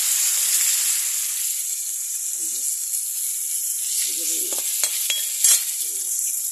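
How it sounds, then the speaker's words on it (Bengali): Fish frying in a pan while a vegetable curry is being prepared: a steady, fairly loud hiss and sizzle of hot oil throughout, with a few soft stirring clicks and faint background voices. "এই যে মাছ ভাজতেছি"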